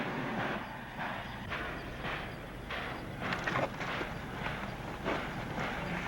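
Old steam train pulling out on a western TV show, a steady rumbling chug of the railroad cars with rhythmic clanks and bursts of puffing, fairly loud and continuous throughout with no talking.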